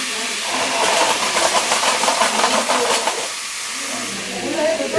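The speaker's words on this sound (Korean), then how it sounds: "여기서부터가 약간 막 기름을 튀기기 때문에 조심해야 돼요" Hot oil spattering and hissing in a pan as something fries, a dense steady crackle that holds for a few seconds and then eases, heard up close with no talking.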